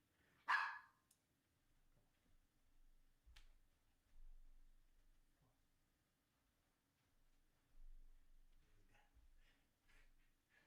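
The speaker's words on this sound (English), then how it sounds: "Yeah, she's barking to come in" A dog barks once, sharp and fairly close, near the start, then the scene falls to near silence with faint rustles, a click and low thumps.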